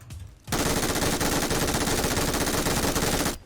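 A long continuous burst of machine gun fire in a video game, rapid rattling shots at a steady rhythm lasting about three seconds, loud and close, with a brief quieter moment before it starts.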